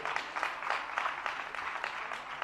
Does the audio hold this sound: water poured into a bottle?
no